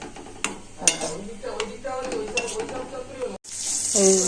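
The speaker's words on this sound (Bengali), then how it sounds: "কড়াতে তেল দিয়ে দিয়েছি, সাদা জিরে আর শুকনো লঙ্কা ফোড়ন দিয়ে দিয়েছি, আর একটু পেঁয়াজ দিয়ে দিয়েছি।" Cumin, dried red chillies and onion fry in hot oil in a wok, crackling under a few spoon taps and scrapes against the pan, with a brief cut before a louder hiss returns near the end.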